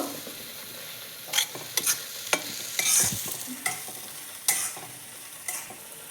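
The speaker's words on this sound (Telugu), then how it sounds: "టూ మినిట్స్ ఇలా మసాలాలో మునక్కాయల్ని బాగా వేయించుకోవాలి మీడియం ఫ్లేమ్లో వేయించుకోండి" Moringa drumsticks fry in masala over a medium flame, with a steady sizzling hiss and repeated scraping stirs of a spoon at irregular intervals, close and fairly loud.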